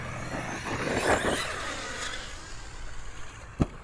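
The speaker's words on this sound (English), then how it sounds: "We're going to try sending the Kraton EXB off of here." An Arrma Kraton EXB 6s RC car's electric motor whines up as it drives off a ramp, the buzzing sweep rising and fading as it flies, followed by a sharp thump of landing.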